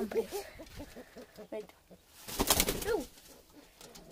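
A caged bird coos softly in short repeated phrases, with a burst of wing flapping or cage rustling partway through. People talk quietly nearby.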